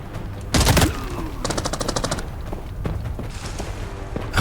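Gunfire in the tactical shooter Arena Breakout: Infinite, with a loud burst of rapid automatic shots followed by further sustained firing and scattered single shots, all fairly close.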